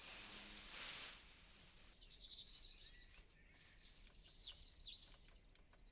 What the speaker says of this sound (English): At least you can listen to the birds and stuff.